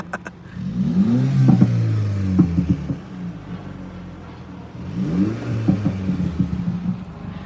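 Two bursts of revving from a 2019 Mini Clubman S with a JCW Pro exhaust and JCW tuning kit rise sharply, each followed by quick throttle blips, then fall back to idle. The engine is close and loud, with no talking.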